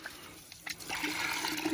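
Water running from a house line into a container, a steady rushing and gurgling flow that starts after a few faint clicks and continues close by and fairly quiet.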